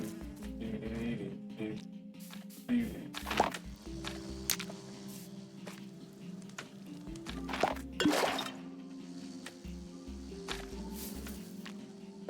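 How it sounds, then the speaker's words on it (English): Honey dripping from a beehive in Minecraft, soft repeated drip sounds at irregular intervals mixed with footsteps and quiet background game tones, no talk. "It's still dripping honey"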